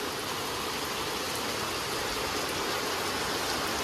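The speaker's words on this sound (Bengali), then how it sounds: "কি জোরে আবার বৃষ্টি শুরু হয়ে গেল।" Heavy rain pours in a dense, steady roar of broadband hiss, continuous and loud throughout with no voices.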